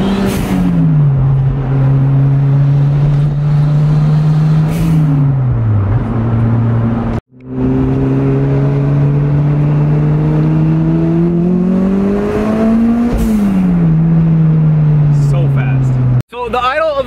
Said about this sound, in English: I'll let you guys listen to kind of the exhaust.